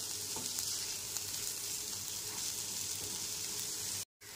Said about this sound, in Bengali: গ্যাসের ফ্লেমটা লো টু মিডিয়ামে রেখে সবজিগুলো খুব ভালো করে ভেজে নেব